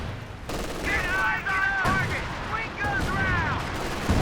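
Machine gun fire from a Company of Heroes 2 match, rapid bursts rattling across a few seconds amid battle noise, with a commentator talking over it.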